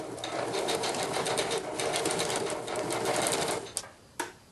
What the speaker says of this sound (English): attach them like this and sew across to make them taller